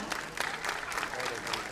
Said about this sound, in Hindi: Zordar taliyan.